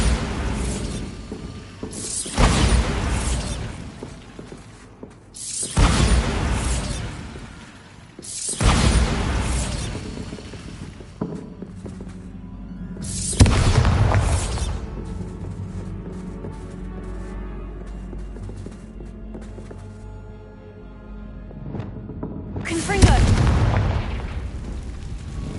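Bombarda explosion spell from Hogwarts Legacy: a series of loud, booming blasts with shattering debris, about five bursts spaced a few seconds apart, each decaying into rumbling rubble and a low ambient hum between them.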